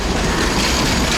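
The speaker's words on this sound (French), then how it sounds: "regardez ce tramway." A tram rolls past on a street in Kaliningrad, a steady, loud rumble of wheels on rail with faint clatter throughout, close by and with no voices.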